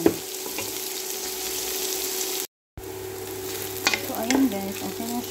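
Onions sizzle and fry in a pan with steady, close hissing crackle, broken by a brief silent gap, then stirring clatter and scraping of a utensil against the pan.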